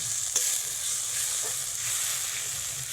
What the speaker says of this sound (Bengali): জলটা দিলে মশলাটা কষানো খুব ভালো হয় এবার কয়েক মিনিটের জন্য মশলাটা কষিয়ে নেব